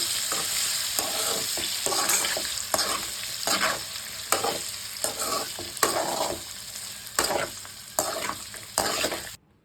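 Small amla are stirred into hot tempering oil for a Nellore-style pickle, the oil sizzling steadily while a spoon scrapes the pan in repeated strokes. It ends abruptly in near silence.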